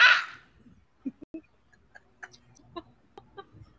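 Soft, scattered clucks from a red chicken pop up in short bursts after a brief noise at the start, fairly quiet and intermittent.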